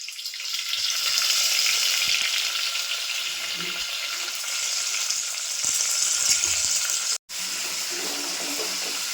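Cumin, mustard seeds and curry leaves sizzling in hot oil give a steady, bright hiss with crackling pops throughout, close by, with one brief dropout near the end.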